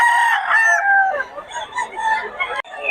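Roosters crow and chickens cluck among a flock of fowl in Bocaue, with loud, overlapping calls filling the scene and a sharp break near the end.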